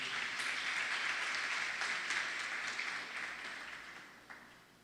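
Church congregation applauding for the Lord during a worship service, a steady wash of many hands clapping at moderate level that gradually thins and fades toward the end, with no voices over it.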